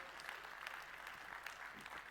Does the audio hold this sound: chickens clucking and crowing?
no